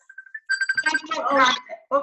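A phone rings during a webinar presentation, with a short repeating electronic ringtone pattern heard close, as people start talking over it.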